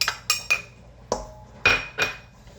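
Dry baking mix of flour, sugar, baking soda and salt stirred in a bowl, giving about six sharp clinks of utensil against the bowl, scattered and uneven, close and fairly loud with no voices.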